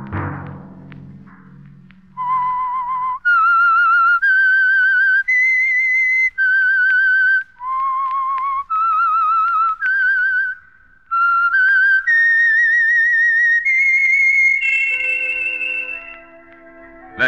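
A human whistler performs the signal tune for the Signal Oil radio program The Whistler, a clear melodic phrase of sustained stepping notes, loud and close, with no talk over it.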